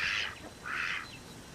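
Male ducks in a backyard flock give two raspy quacks in quick succession, fairly close and clear over light background noise.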